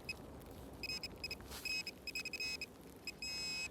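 Quiet outdoor scene with a metal detector emitting repeated short electronic beeps and a longer sustained tone near the end, irregular in rhythm and faint over a low background hiss.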